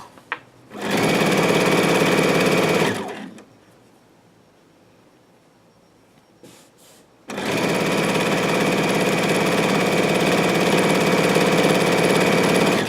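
Close, loud sewing machine stitching fabric for a cube, running steadily, stopping for a few seconds of near quiet with a small click at the corner, then starting again and humming on.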